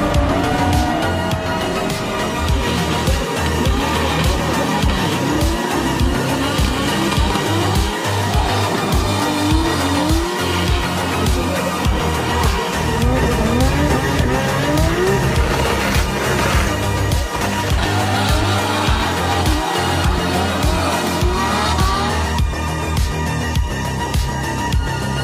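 Race cars on a track, a loud continuous engine roar with rising and falling revs and gear changes, tires squealing at times, steady and close throughout with no talk.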